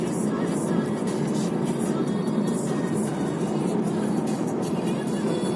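A turbocharged, LPG-fuelled Honda Civic cruising steadily at 90 on cruise control, its broad, even road and engine rumble holding constant throughout with no talking.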